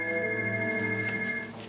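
Telephone ringing with a steady electronic tone that holds for over a second, then fades slightly at the end.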